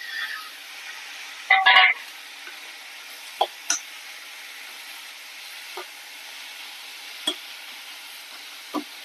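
Tomatoes added to frying onions for onion kara kulambu, with a short burst of spatula stirring and scraping followed by scattered light taps against the pan over a faint steady sizzle.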